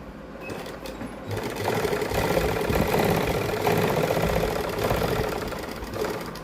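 A sewing machine runs in a steady, rapid whir while stitching a line along marked pleats on the lining of a suit, close and continuous, starting after a brief quieter moment.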